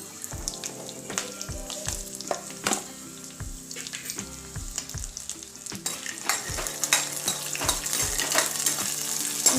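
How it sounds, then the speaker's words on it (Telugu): Peanuts and chillies fry in a pan for a peanut chutney, a steady close sizzle broken by repeated scraping and stirring clicks, with no talking. "ఇప్పుడు మనం వీటిని ఫ్రై చేసుకుందాం."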